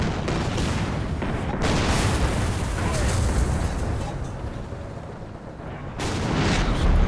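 Tank cannon fire and explosions in the War Thunder video game, a dense run of loud booms and rumbling blasts that fill most of the stretch, with sharp bursts near the start and again toward the end.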